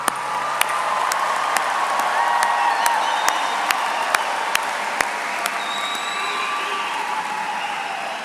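Steady applause from a large crowd at a graduation ceremony fills the space, with a few sharp isolated claps standing out over the dense, continuous clapping.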